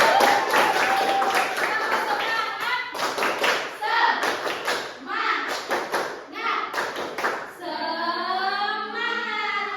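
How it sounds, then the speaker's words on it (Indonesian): Schoolchildren in a sixth-grade classroom clap their hands in quick bursts of sharp claps, mixed with children's voices and chatter, fairly close and lively. "Tepuk tangan dulu dong."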